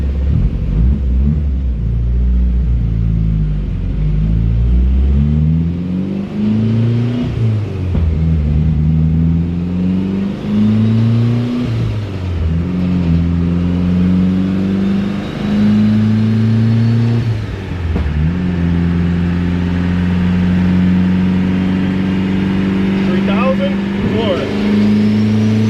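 An SRT4-swapped Dodge Spirit R/T with a stock SRT4 setup revs hard on a chassis dyno, heard loud from the passenger seat as the engine climbs through the gears in repeated rising pulls.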